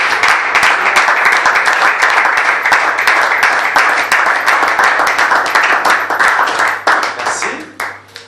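A church congregation applauds loudly and steadily, dense clapping from many hands close by that continues for several seconds before tapering off near the end.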